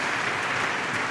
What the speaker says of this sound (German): Gibt es noch einen Applaus für die beiden?